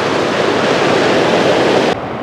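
Canal water at Vääksy's Kanavapuisto camper parking rushes past in a loud, steady hiss that cuts down abruptly just before the end, with no voices.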